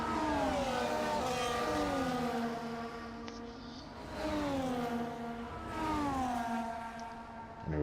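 F1 cars in the F1 24 game pull away at Imola on the formation lap, engines revving in rising waves of high whining pitch, several cars layered together and fairly loud without talk.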